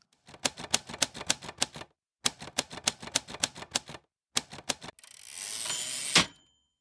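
Mechanical typewriter keys clacking in three quick bursts separated by pauses, then a rising carriage return ending in a sharp ding and slam, crisp and close with no voices.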